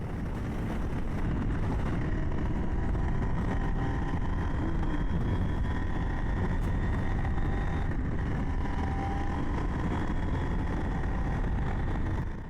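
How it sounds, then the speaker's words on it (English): A motorcycle loaded with about 100 pounds of luggage rides the twisty Cabot Trail, its engine a steady continuous drone mixed with heavy wind rush, loud and unbroken throughout. "I'm not exactly going to speed through here with at least 100 pounds of luggage on the bike"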